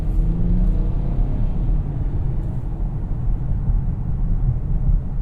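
A 2017 Kia Cadenza's engine pulls hard toward the red line, heard from inside the cabin as a steady, muffled low rumble with road noise.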